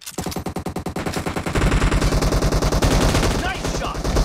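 Gunfire in the mobile game PUBG Mobile, a rapid automatic burst of evenly spaced shots that runs into a dense, sustained stream of fire, loud and close, with no talking.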